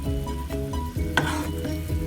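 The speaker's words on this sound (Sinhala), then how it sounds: "මේ සීනි ටික හොඳින් කලවම් කරගන්න" Sugar melting into a caramel syrup as it is stirred in a pan, a close, continuous bubbling sizzle with a low rhythmic churning and one brief bright scrape near the middle.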